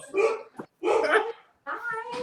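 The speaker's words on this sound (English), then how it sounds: "My dogs heard those dogs. They started barking." Several house dogs bark in three sharp, close bursts separated by short pauses, loud and excited, with no talking over them.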